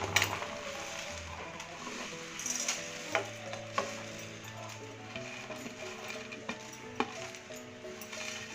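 Whole biryani spices such as bay leaves dry roasting in a pan over a gas flame: a quiet rustle and faint crackle, with several sharp clinks and taps of spices or utensil against the pan.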